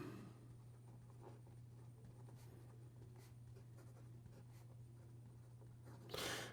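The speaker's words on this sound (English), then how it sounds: "Here we go with the writing sample for the Benu Talisman" A generous, wet broad nib on a Benu Talisman fountain pen scratches softly across paper in short, irregular strokes over a steady low hum, with a louder rustle near the end.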